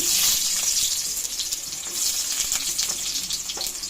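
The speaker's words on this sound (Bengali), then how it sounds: "তেলটা গরম হয়ে গেছে, মশলাগুলো দিয়ে দেবো। প্রথমেই দিয়ে দিচ্ছি আমি পেঁয়াজ কুচি," Chopped onion sizzles in hot mustard oil in a kadai, a steady, loud, bright hiss with faint crackles running continuously throughout, close up and without any talking.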